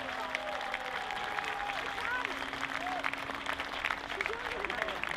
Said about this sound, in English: Nice round of applause, everybody.